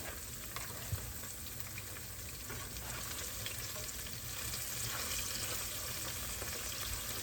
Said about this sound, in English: Now I'm cooking this okra probably 5, 6, 7 minutes on each side.